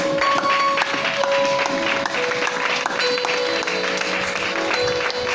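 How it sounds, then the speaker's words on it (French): A church congregation applauds and acclaims Jesus Christ during a French-language worship service, with steady, dense clapping sustained at close range throughout and no pause. "Acclame Jésus-Christ pour sa parole"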